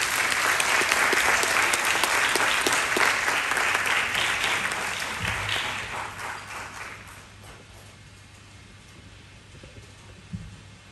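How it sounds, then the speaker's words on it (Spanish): Applause from a school end-of-year gala audience greeting musicians before a song, loud and dense at first, then thinning and fading over several seconds, with a couple of low thumps near the end. "un fuerte aplauso,"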